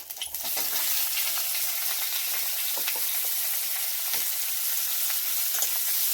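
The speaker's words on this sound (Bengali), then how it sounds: "পেঁয়াজটা একটু ভালো করে ভেজে নিতে হবে" Onions sizzle and crackle steadily in hot oil in a pan, with bay leaves added, a continuous close frying hiss broken by occasional sharp pops and stirring scrapes, no voices.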